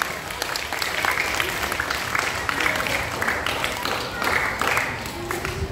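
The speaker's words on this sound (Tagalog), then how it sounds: "isang malakas na palakpak para kay Tebs Makoy L." Scouts and guests at a backyard camping closing ceremony and certificate awarding clap in a lively, uneven burst of close applause, with some voices mixed in.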